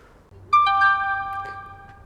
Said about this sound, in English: we got the notification